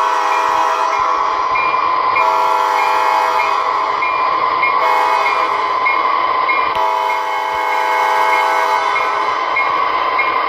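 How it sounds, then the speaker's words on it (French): A steady, loud horn from a Märklin model ES44AC BNSF locomotive blares continuously, layered with a metallic ringing bell, full and close throughout. "Donc mettre la cloche et puis faire le klaxon."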